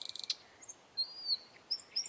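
Nightingale song: a rapid burst of high chirps followed by several clear, rising and falling whistled phrases, fairly faint and alone with no voices.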